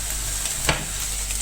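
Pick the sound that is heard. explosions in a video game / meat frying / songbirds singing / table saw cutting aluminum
meat frying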